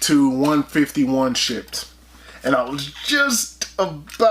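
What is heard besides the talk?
None of the usual background noises is heard.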